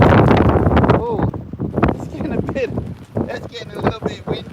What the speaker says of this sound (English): that's getting a little bit windy